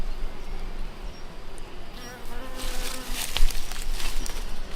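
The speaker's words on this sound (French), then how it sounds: "J'avais une abeille qui s'intéressait à mes cheveux." A honeybee at a beehive buzzes close to a beekeeper's head, a steady droning hum that grows louder and more agitated toward the end, with a faint voice in the background.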